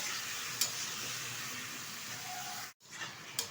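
Winter vegetables for shukto frying and being stirred in a pan, a steady close sizzle with bright hiss throughout, broken by a brief gap near the end and a few scrapes.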